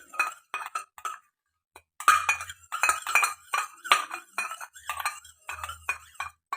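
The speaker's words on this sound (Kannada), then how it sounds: "ಒಂದು ಅರ್ಧ ಚಮಚದಷ್ಟು ನೋಡಿ ಮೊಸರು ಹಾಕ್ಕೊಳ್ತಾ ಇದ್ದೀನಿ ಕಂಪ್ಲೀಟಾಗಿ ಮಿಕ್ಸ್" A spoon stirs curd in a small bowl, giving quick, irregular clinks and taps, close and fairly crisp, broken by a short pause before the mixing resumes more busily.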